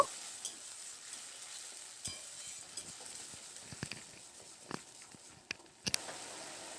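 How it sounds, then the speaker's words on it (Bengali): Spice paste with a splash of water fries in a pan and is stirred, giving a soft, quiet sizzle broken by irregular scrapes and knocks of the spoon against the pan. "এবার এই মশলাটাকে একটু নাড়াচাড়া করে নেব"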